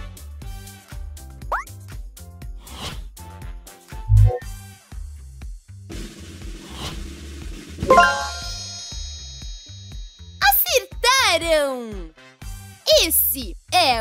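Sabiá thrush song, a few clear whistled phrases with rising and falling notes, heard near the end after cartoon music and light tinkling sounds.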